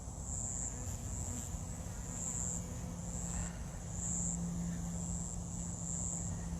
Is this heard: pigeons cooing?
no